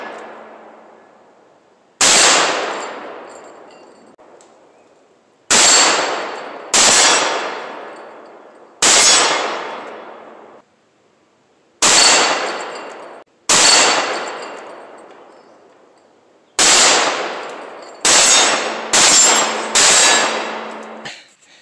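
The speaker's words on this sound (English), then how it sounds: "I finished firing off that first mag." A Riley Defense AK-47 rifle fires about a dozen loud, sharp shots outdoors at targets. The shots come in irregular single and paired bursts, and each one rings out with a long, echoing decay.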